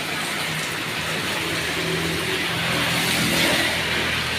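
Steady rain falling outdoors, a continuous dense hiss that holds evenly loud throughout with a faint low rumble underneath, no voices.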